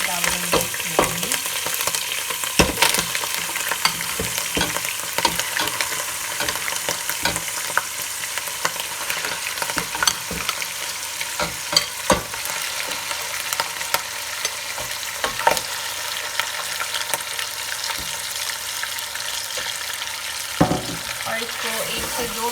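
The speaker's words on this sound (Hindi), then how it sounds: "घी थोड़ा गरम हो गया है, अब हम इसमें लहसुन डालेंगे, अदरक हल्का सा फ्राई करेंगे" Garlic and ginger fry in hot ghee with a steady close sizzle, punctuated by occasional sharp clinks and stirring scrapes, with no voices.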